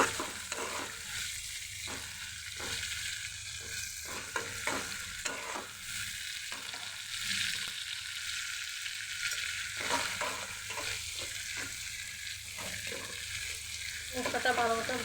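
Spice paste for a taro stolon curry sizzles steadily in a pan while being stirred, with repeated scraping strokes over a continuous frying hiss, close and moderately quiet, no voices.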